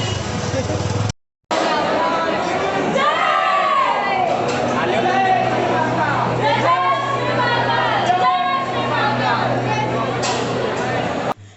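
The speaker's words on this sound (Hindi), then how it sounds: "तो अभी रात को दिन से भी ज़्यादा भीड़ है" Night crowd at Mahakaleshwar temple in Ujjain: a steady hubbub of many voices and chatter, with a low engine-like drone beneath and a brief dropout near the start, one voice speaking over the babble.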